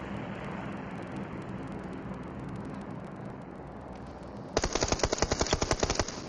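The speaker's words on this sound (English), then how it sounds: "shots down range" Automatic gunfire in PUBG Mobile: after a stretch of steady, hissing background, a rapid run of loud, evenly spaced shots rings out near and close for about two seconds.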